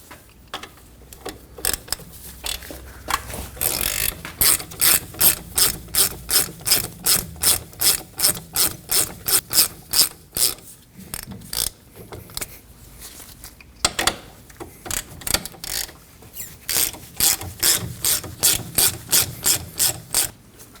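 A ratchet loosening the two 11 mm Allen head caliper bolts on a Ford Edge front brake, a close series of rapid clicking bursts in repeated strokes with brief pauses between runs.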